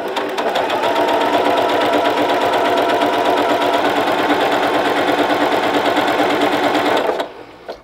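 A sewing machine runs a continuous rapid stitch across a quilt block sewn on the diagonal, a steady close mechanical whir lasting about seven seconds before stopping abruptly.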